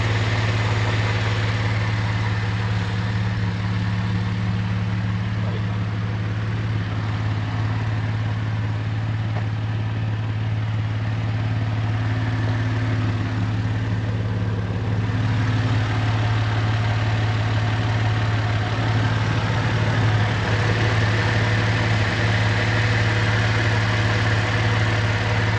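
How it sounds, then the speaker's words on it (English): A Pontiac G6 GXP engine idles steadily with a short ram intake, its low, even drone and faint induction hiss holding at close range with no voices. "now I'm doing a little video on the induction noise just so you can hear it and stuff"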